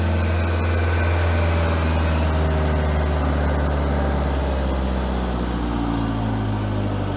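A heavy piece of auction equipment idles with a steady low rumble, loud and close, running alone with no talking.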